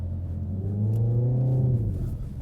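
A front-wheel-drive Renault Megane RS accelerating on a slippery road, its engine drone rising in pitch and swelling louder, heard up close from inside with no talk.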